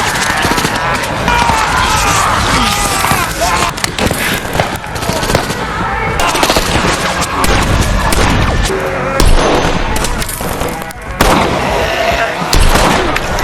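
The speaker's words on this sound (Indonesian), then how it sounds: "Dixon menyembunyikan suara tembakannya di antara tembakan kelompok gubernur." A chaotic shootout from The Walking Dead season 3, with dense bursts of gunfire, sharp cracks and rapid volleys overlapping, loud and near, alongside shouting and other commotion.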